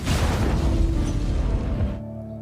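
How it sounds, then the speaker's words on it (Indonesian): A truck blows up in a war film set among American soldiers and the Taliban, a loud, dense blast with a rumbling roar that holds for two seconds, then cuts to a quiet low hum. "tiba-tiba truk itu meledak yang menyebabkan Jack tewas"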